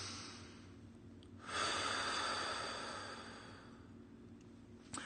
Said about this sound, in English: Let's take in a deep breath first.